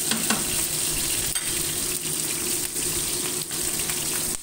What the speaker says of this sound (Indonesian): Goreng dulu cabenya sampai matang ya.